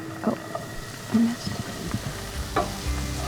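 Tofu crumbled into a hot pan on a stove inside a camper van: soft sizzling with scraping, stirring taps and a couple of thumps from the pan, close and moderately loud.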